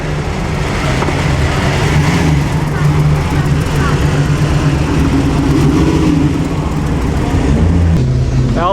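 A Ferrari engine on the road during the Mille Miglia, a steady loud mechanical drone running throughout, close by, with crowd voices and talk mixed in.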